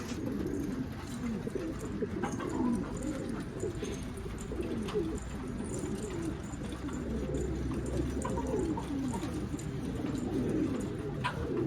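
Steady, burbling coos from pigeons close by, the deep rolling calls overlapping one another without pause.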